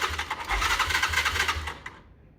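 A Derbi Cross 125 motorcycle engine cranks with a rapid, rattling starter whir for about two seconds, then cuts off abruptly into quiet.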